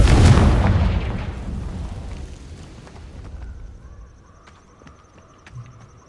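A Confringo spell explosion bursts in the video game Hogwarts Legacy, a loud booming blast at the start that rumbles and decays over several seconds into a quiet cave ambience with faint small tones.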